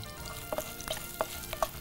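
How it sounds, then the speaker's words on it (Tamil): Dried chillies and asafoetida frying in hot oil over a medium flame, giving a soft crackle with a few sharper pops scattered through a brief, quiet moment, with no voices. "இப்போ தீ மிதமாக வச்சு இந்த மிளகாயை சேர்த்துட்டு பெருங்காயம்,"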